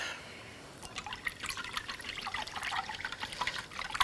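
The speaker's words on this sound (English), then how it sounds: "we're gonna whisk this up" An egg is whisked in a measuring cup, giving a quick run of light, wet clicking and tapping strokes that starts after a short pause and grows a little busier toward the end, close and fairly quiet, with no talking.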